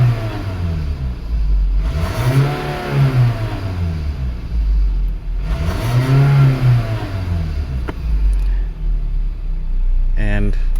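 A 2005 Toyota Caldina with a P0191 fault revs up twice as it accelerates, its engine note rising and falling in two smooth swells close by, with a person speaking alongside.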